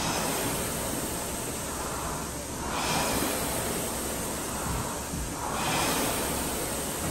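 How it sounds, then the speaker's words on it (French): A deep breath drawn in during a rowing-machine breathing demonstration, heard as two broad swells of airy hiss, each lasting a couple of seconds, close and moderately loud over a steady noisy background. "Là, j'inspire."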